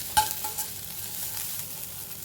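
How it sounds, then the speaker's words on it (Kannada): Grated fresh coconut fries in a pan with a soft, continuous sizzle and faint stirring. It is brief and fairly quiet, with a couple of sharp utensil taps. "ಹಸಿ ಕೊಬ್ಬರಿನೂ ಹಾಕ್ತಿರ್ತೀನಿ ಹಾಕಿ ಇದನ್ನು ಚೆನ್ನಾಗಿ ಬಾಡಿಸಿ"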